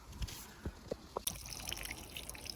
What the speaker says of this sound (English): So I have to water the wheat and the actual plant